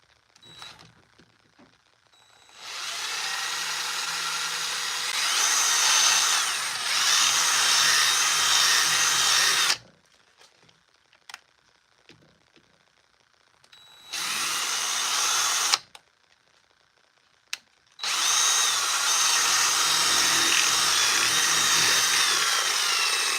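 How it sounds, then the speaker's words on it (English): A power drill whirs loudly in several long bursts separated by quiet pauses, with a short buzz near the start and a sustained final run. "All right, simple drill."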